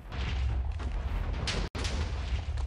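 A Minecraft Better With Mods TNT trap goes off in a dense, continuous roar of booming explosions that fills the whole stretch, with one brief cut of silence before the blasts keep rumbling on.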